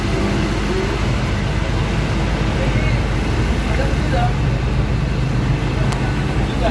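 A Mira bus engine idles at a crowded terminal during the peak holiday homecoming rush, a steady low rumble blended with busy station noise and voices throughout.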